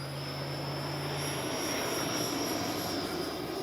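An E-flite 90mm Viper electric ducted-fan RC jet flies slowly with landing flaps down, a continuous distant whine and roar holding steady throughout, no talk.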